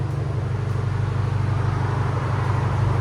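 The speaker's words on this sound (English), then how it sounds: "Nice idle. It's clean idle. It's not too loud." A 2023 Genesis G70 with a 2.0L turbo engine, resonator and muffler delete, idles with a steady, smooth low exhaust drone, close and even, with no revving and no talk.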